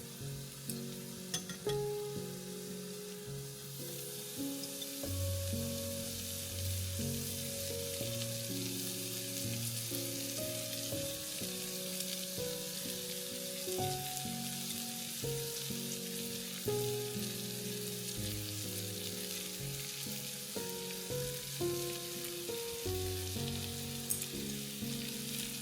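Sliced shallots fry in a pan with a pinch of sugar, giving a steady, close sizzling hiss that runs unbroken for the whole stretch beneath background music.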